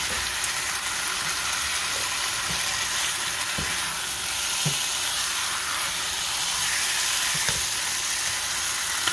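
Curry powder frying in hot oil for Jamaican curry chicken, a steady close sizzle and hiss running for the whole stretch with a few faint clicks of utensils, no voices.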